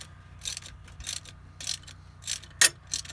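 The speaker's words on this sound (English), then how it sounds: "You notice I'm using a smaller wrench putting these back together" A small ratchet wrench snugs rocker cover bolts on a 2005–2010 Honda Odyssey engine, giving about six short, crisp bursts of close ratcheting clicks separated by brief pauses, with no talk.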